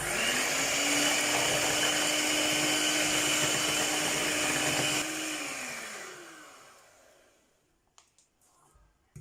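An electric mixer beats vanilla sponge cake batter with baking powder, whirring loudly and steadily, then slowing and winding down to stop, followed by faint clatter.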